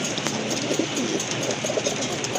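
A pair of large pigeons coos softly against a constant hiss of background noise, with a few low murmuring calls.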